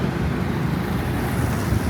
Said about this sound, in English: And hear how busy it is with the traffic